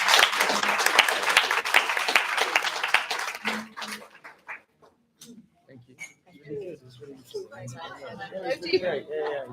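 An audience of conference delegates applauds the speakers, with dense clapping for about four seconds that thins out, followed by chatter and talk.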